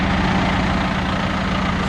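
A John Deere 6125R tractor runs its PTO at 840 RPM to drive a 15,500 tanker, giving a constant, loud, low engine drone that holds steady without a break.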